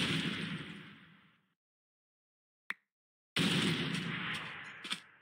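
Revolver shots in a modded Minecraft survival game: a loud, noisy blast that fades away, a single sharp crack after a stretch of silence, then another loud roaring burst with a snap near the end.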